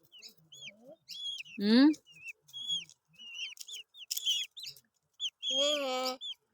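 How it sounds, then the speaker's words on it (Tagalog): Chicks and chickens cluck and chirp in short scattered calls while being fed by hand, with brief voices nearby. "My little one always feeding the chicks every minute."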